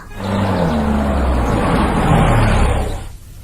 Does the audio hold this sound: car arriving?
yes